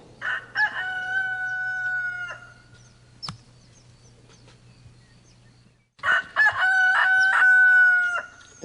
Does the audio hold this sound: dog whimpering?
no